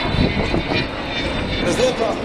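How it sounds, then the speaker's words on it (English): The Avro Vulcan XH558 bomber jet flies past at the 2015 Rhyl air show in North Wales, a loud rushing engine roar swelling and easing as someone talks over it. "As the aircraft passes by there"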